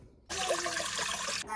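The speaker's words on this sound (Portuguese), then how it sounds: "Eu vou pôr 700 gramas de água normal da torneira." Tap water pours into a large mixing bowl for slow-fermented bread dough, a sudden loud splashing rush that starts after a brief quiet and runs steadily before cutting off.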